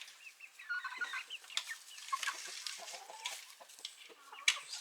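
Several chickens cluck and chatter close by in a busy, overlapping stream, with a few sharper squawks standing out.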